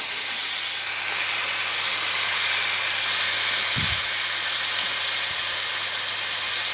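Steak frying in a pan with a constant, loud, hissing sizzle, steady throughout, with a soft thump partway through.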